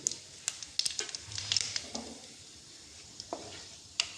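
Whole spices such as cinnamon, cardamom, cumin, black pepper, bay leaf and dried chili crackle in hot oil, with faint, scattered pops and a soft sizzle between them.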